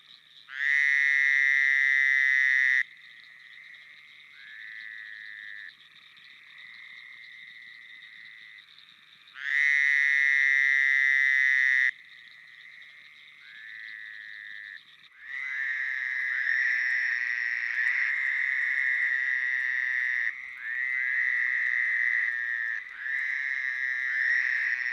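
A recorded Chicago-region frog calling in loud, nasal, bleating bursts, like a sheep caught in a trap, with several long calls separated by quieter trilling stretches and then a steady chorus of overlapping calls.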